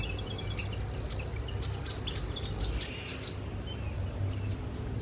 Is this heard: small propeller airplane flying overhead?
no